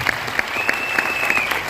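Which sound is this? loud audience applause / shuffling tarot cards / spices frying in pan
loud audience applause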